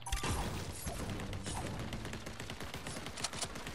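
Continuous crackling gunfire in Fortnite, a dense fusillade of shots and impacts running steadily throughout, heard at a moderate distance beneath faint background sound.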